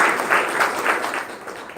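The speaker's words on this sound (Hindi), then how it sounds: "तो आपके लिए एक ताली बजाइए।" Audience applause at a Brahma Kumaris live spiritual class in Bhusawal, a dense, steady wash of many hands clapping at moderate volume with no talk over it.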